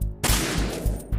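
Gunshots in a Metal Gear Solid game, a loud, close burst of rapid firing after a brief quiet start, with sharp repeated cracks in a quick rhythm.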